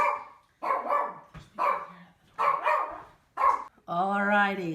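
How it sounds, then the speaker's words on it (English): A dog lets out a drawn-out, tonal bark or howl near the end, following several stretches of a person talking. "there goes my dog"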